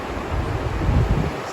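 Takakkaw Falls in Yoho, British Columbia, thunders as a continuous broadband roar of heavy falling water, loud and steady with low rumbling surges, mixed with wind buffeting the microphone.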